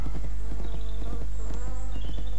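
Rhythmic clip-clop of horse hooves galloping in the riding video game My Little Riding Champion, steady repeated beats close and clear, with a brief whinny-like tone above them.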